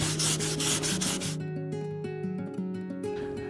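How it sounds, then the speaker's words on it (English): Sandpaper rubbing along the cut edge of an old restored hat brim, giving close, continuous abrasive scraping with brisk back-and-forth strokes and no talking. "the sandpaper allows for us to really create sharp edges on the hat"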